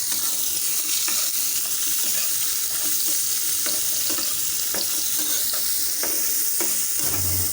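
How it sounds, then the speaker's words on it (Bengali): Onions with salt and turmeric fry in oil left over from frying small chanda fish, sizzling loudly and steadily while a spatula scrapes and stirs the pan in repeated strokes. "পেঁয়াজটাকেও ভালো করে ভেজে নেওয়া হবে।"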